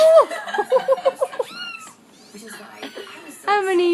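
Several kittens about four to five weeks old meow repeatedly, thin high cries close by in short bursts, with a person talking softly over them.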